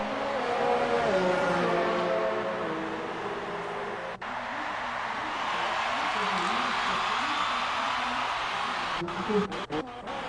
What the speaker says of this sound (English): So we got a few cars in action coming out of the pits, a Toro Rosso and a Williams.